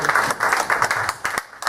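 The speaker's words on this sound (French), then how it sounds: "Est-ce qu'on peut une fois de plus acclamer le Seigneur?" A church congregation applauds and cheers in acclaim of the Lord, steady close clapping from many hands with voices mixed in, easing off near the end.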